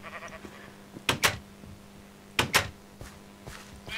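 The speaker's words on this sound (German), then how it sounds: "Oh, jetzt habe ich das Schaf aus Versehen gehauen." Sheep in the video game Minecraft give short bleats after being hit, two quick paired bursts a little over a second apart, fairly loud over a quiet steady hum with no talk.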